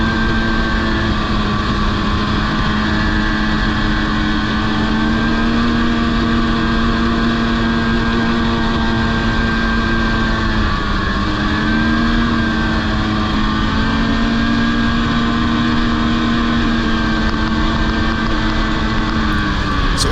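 A snowmobile hauls along a Tug Hill state forest trail, its engine droning loud and close with a steady tone that dips and rises slightly as the throttle shifts, with no talking.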